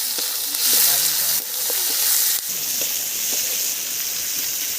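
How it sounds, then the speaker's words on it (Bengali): Onion sizzling in hot oil while dal is tempered with dry chili and cumin, a steady loud frying hiss with brief stirring clatters and no talking. "তো ডালে ফোড়ন দিচ্ছি শুকনো লঙ্কা, আর দিচ্ছি জিরে"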